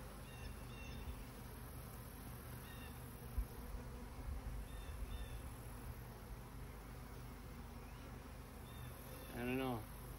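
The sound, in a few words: honeybees buzzing in a hive during inspection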